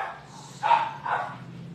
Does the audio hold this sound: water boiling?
no